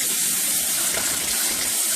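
Household tap water runs steadily from a faucet fitted with a water filter for plain, unfiltered use when washing plates, a close, continuous gushing stream with no talking.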